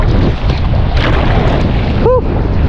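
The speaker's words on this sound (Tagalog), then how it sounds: "Hinahangin talaga guys." Strong wind on open water beside a fishing bag net, loud, blustery rumble buffeting the microphone throughout, with a brief whistling tone near the end.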